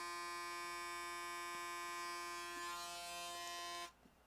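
Electric hair clippers with a short guard buzz steadily and close up while shaving hair on a head, a constant harmonic hum that cuts off abruptly near the end.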